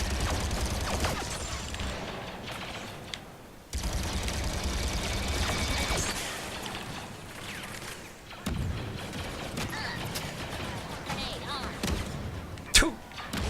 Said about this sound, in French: Oh, les explosions, je te raconte pas